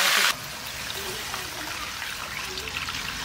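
Water poured into a spiced whole chicken dish in a pot, a steady trickling pour following a brief loud burst at the start, with a voice speaking over it.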